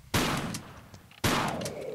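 Two loud shotgun blasts from the Tomb Raider game, close and sharp, about a second apart, each with a booming decay and no talk.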